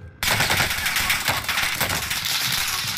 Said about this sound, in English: That's how loud the guns are.